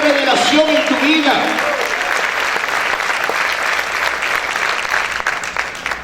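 A church congregation bursts into loud applause, dense clapping that starts strong under a brief voice and tapers slightly toward the end as the crowd settles.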